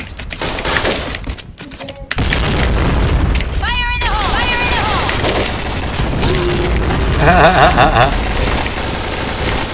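Game action from the shooter Point Blank: loud, dense rumbling booms and rapid gunfire fill the scene continuously, with a bomb blast among them, while players talk over the noise.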